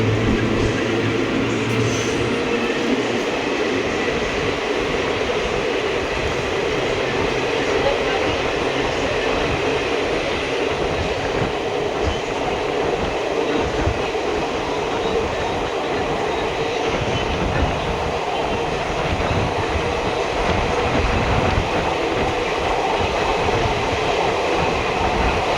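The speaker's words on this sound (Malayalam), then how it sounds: "ട്രെയിൻ ഇതാ കൊയിലാണ്ടി റെയിൽവേ സ്റ്റേഷനിലേക്ക് എത്തിയിരിക്കുകയാണ്." A train pulls in at Koyilandy railway station in Kerala, a steady close rumble of rolling cars with rail clatter running the whole time and faint voices now and then.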